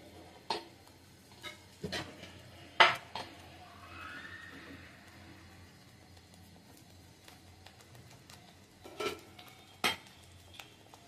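A spoon scrapes and knocks against a pan while palak paneer is stirred and mixed. The scrapes come as irregular, fairly close clinks and taps over a quiet background with a faint sizzle.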